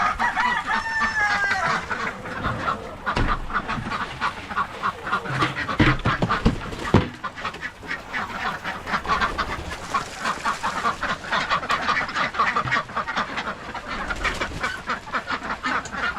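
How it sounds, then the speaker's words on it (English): Flock of chickens on a farm, continuous busy clucking and squawking close by, with a rooster crowing and some duck-like quacks mixed in. "I'm getting strafed by a lot of chickens"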